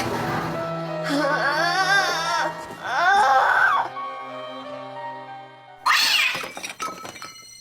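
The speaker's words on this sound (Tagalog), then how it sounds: "Wisit na pusa yun ah." A cat lets out long, drawn-out wailing meows, two loud yowls followed by a pause and a shorter cry, close and prominent.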